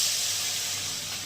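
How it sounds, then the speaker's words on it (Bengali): Water poured into hot fried spice masala in a pan bursts into a loud, steady steaming sizzle and hiss that fades only slightly over a short moment. "মশলাটা কষানো হয়ে গেছে, এবার জল দিয়ে দিলাম"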